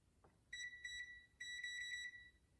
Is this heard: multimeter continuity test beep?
yes